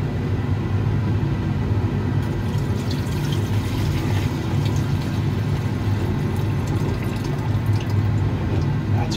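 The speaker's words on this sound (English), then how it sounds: "we'll just cover this thing with some hypochlorous acid." Hypochlorous acid, about 750 milliliters, is poured over a gold bar, making a steady liquid pour and splash over a low rumble, loud and continuous, with no talking.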